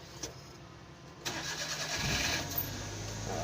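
A car engine cranks briefly, then catches and settles into a steady idle after the ignition has been cycled on four times to rebuild fuel line pressure. The start is close, with a short whirring crank before the rumble.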